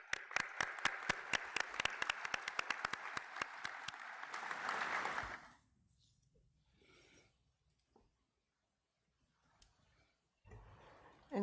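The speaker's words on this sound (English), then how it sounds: "it's a round of applause to you all" An audience at a state law-enforcement commission meeting bursts into dense, steady applause that holds for about five seconds, then tapers off into quiet room tone with a few faint stray noises.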